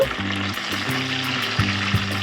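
Eggplants fry with salt in a pan for a stuffed brinjal curry: a steady close sizzle with soft scraping stirs breaking in every half second or so, no voices.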